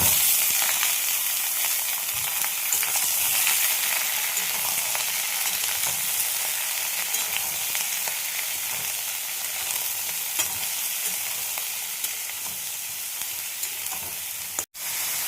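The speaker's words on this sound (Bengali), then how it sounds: "দেখো ফোড়নটা আমার হয়ে গেছে, আমি দিয়ে দেবো এবার লাউ।" Bottle gourd drops into a hot oil tempering for lentil dal and fries with a loud, steady hiss. The sizzle stays close and continuous for the whole stretch, with faint stirring under it and a brief dip near the end.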